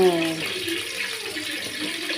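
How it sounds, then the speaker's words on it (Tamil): Cooking oil, about six spoonfuls, poured into a pan for a bitter gourd stir-fry gives a steady close rushing pour, with a voice briefly at the start. "எண்ணெய் கொஞ்சம் அதிகமாக ஊற்றிக்கிறேன்"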